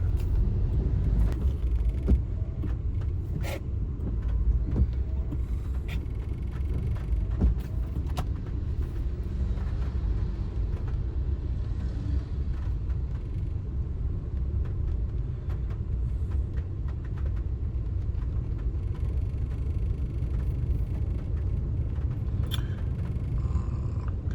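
A car drives through flooded, puddled roads on Koh Samui, Thailand. A continuous low engine and road rumble is heard from inside the car, with scattered faint clicks and knocks and no voices.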